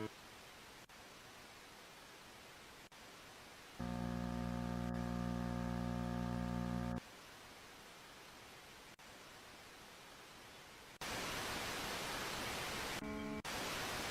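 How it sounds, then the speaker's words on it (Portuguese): Steady broadband white-noise static hiss, fairly loud, with a brief harmonic tonal stretch partway through and a louder, brighter burst of hiss near the end. "Ruído branco."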